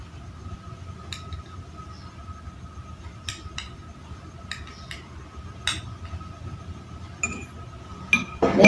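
A tablespoon of salt goes into a drinking glass during a simple kitchen experiment, marked by a few faint, sharp clinks of spoon against glass scattered over a quiet, low room hum.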